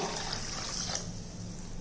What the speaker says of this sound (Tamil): தண்ணி ஊற்றிக்கிடுவோம்